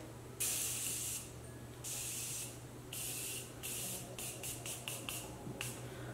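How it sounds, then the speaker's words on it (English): An aerosol setting spray hisses in several bursts, first a few longer sprays, then a quick run of short pumps, close and fairly quiet. "it sprays like continuously and it's kind of like an aerosol thing"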